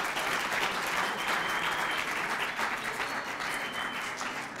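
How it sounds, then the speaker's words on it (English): An audience gives a sustained round of applause after a talk, with many hands clapping at a steady, even level throughout and no distinct voices over it. "Let's do another round of applause for him and this work."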